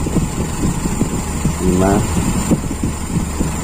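A Toyota Kijang carburetor engine idles roughly and unsteadily as it is about to stall, a steady low rumble with a voice talking over it.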